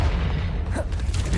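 Bombarda or Confringo spell explosion in the video game Hogwarts Legacy: a low, sustained booming rumble, loud and close, with a brief higher whoosh in the middle.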